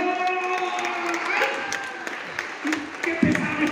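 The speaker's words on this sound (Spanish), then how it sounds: "¡Fuerte el aplauso!" Audience applause at a magic show during a festival performance, a sustained crowd clapping mixed with cheering and background music tones, with voices calling out over it.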